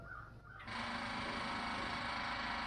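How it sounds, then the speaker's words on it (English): Electric fuel pump on an old, long-unused show car switches on abruptly after a brief quiet moment, then runs as a steady, loud, even whine and buzz that continues unbroken. "Kick that electric fuel pump on, Jack."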